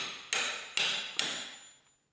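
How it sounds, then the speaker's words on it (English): Hammer blows while wall trim is removed in a workshop: three sharp, evenly spaced knocks, each followed by a brief ringing decay, close and clear with no talking. "right now I'm going to take off this trim"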